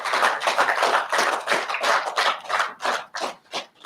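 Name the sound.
audience applause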